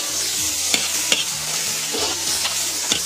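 Dried chilies, Sichuan peppercorns, green chili powder and a big spoonful of chili paste stir-fried in oil in a wok, a steady loud sizzle with a few sharp scraping clicks of the spatula, no voices.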